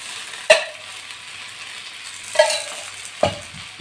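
Thalipeeth sizzles in oil on a pan, a steady frying hiss broken by three sharp clinks or scrapes, around the half-second, two-and-a-half and three-and-a-quarter second marks.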